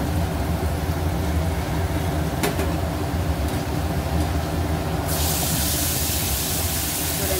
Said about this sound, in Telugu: ఆయిల్లో ఒక 5 మినిట్స్ ఫ్రై చేసుకోవాలి హై ఫ్లేమ్ మీద